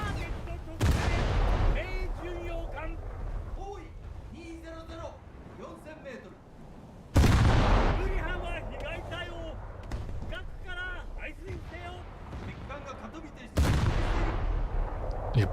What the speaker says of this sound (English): Yep, Yubari is shooting back.